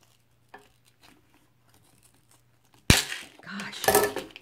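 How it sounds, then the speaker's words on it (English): Near, loud crinkling and snipping as scissors cut open the plastic packaging of a supplement, after a quiet stretch, with bursts of crackly cutting and tearing noise. "Can use a pair of scissors to open them up."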